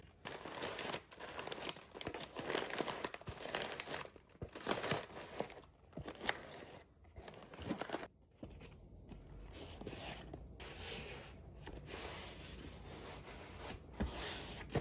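Packing paper being crumpled and rubbed by hand while packing a crystal shop order, a steady stretch of close, dense crinkling and rustling bursts with brief pauses, no talking.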